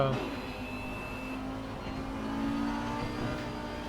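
Faster race cars from the leading pack overtaking in the Assetto Corsa Competizione sim, a sustained engine roar with rising and falling revs and passing whooshes, a voice speaking faintly underneath.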